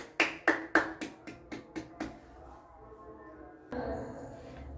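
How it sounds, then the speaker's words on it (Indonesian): A classroom of students claps for group 3 as they come up to present: about eight sharp, evenly spaced claps in a steady rhythm, followed by a lower murmur of room noise. "Kita beri aplaus untuk kelompok 3."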